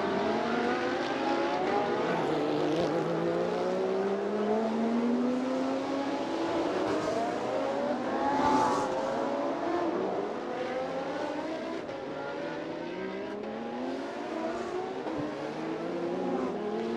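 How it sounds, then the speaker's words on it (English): Race cars, including Porsches, Lamborghinis, a Camaro and a Holden, warm up their tires on the Bangsaen street circuit in Thailand, engines rising and falling in overlapping whines as they circulate at a distance. "Everybody gonna warm up their tires before they come back to the grid."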